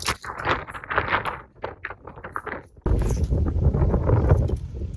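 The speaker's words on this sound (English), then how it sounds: "It's so windy." Blustery wind buffets the microphone, starting in gusty bursts and then becoming a constant heavy rumbling roar.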